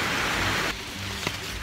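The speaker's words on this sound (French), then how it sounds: "il pleut, mais de fou" Heavy tropical downpour on Mauritius, a steady dense hiss of falling rain that fills the clip, loud and close at first, then slightly softer with a single brief tap near the end.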